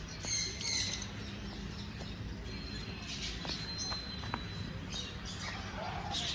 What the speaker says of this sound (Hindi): ये बड़े प्यारे तोते हैं।